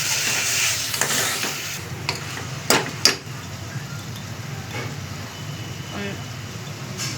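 Half a kilo of chicken pieces stirred in a pan for chicken gravy, with a low steady sizzle and scraping stir sounds, two sharper clinks midway, under a light background hum.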